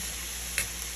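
Potatoes sizzle in shallow oil in a pan, a steady hiss with a brief clink or scrape midway as they are lifted out.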